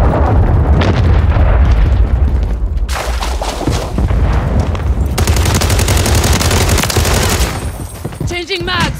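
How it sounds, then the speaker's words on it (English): Cruise missile strike and heavy gunfire in Call of Duty MW3, a loud, dense barrage of automatic fire and booming explosions running continuously, with a brief break near the end and voices under the din. "Hostile cruise missile incoming."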